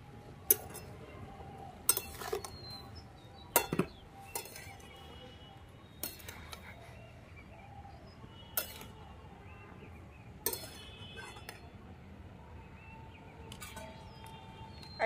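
A spoon stirs cabbage in a cooking pot, producing sparse sharp metallic clinks and scrapes spaced apart over a quiet background.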